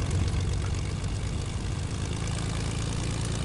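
A video game propeller airplane engine drones in a continuous, loud, even hum with a low rumbling throb, heard alone and unchanging.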